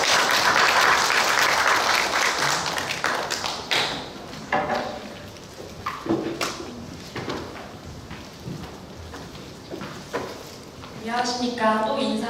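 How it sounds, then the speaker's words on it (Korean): Audience applause at a workshop presentation: loud, dense clapping that thins out into scattered individual claps over several seconds before a voice begins speaking. "나오실 때 큰 박수 부탁드리겠습니다."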